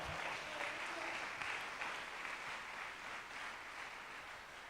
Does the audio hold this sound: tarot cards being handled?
no